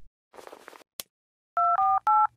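Telephone keypad tones being dialed to call 911: three loud, steady dual-tone beeps in quick succession after a short burst of muffled noise and a click.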